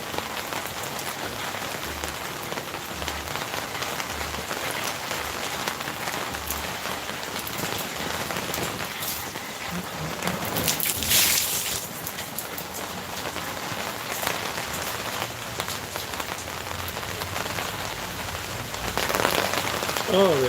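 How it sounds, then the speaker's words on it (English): Steady rain falling on surfaces outdoors on a cold day, a continuous dense patter that swells briefly louder a couple of times, with no voices heard. "Oh, this rain, man."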